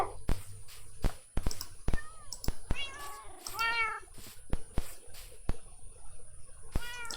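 Cats meowing in a video game: several short, rising mewing calls over a run of sharp clicking taps, fairly close and clear.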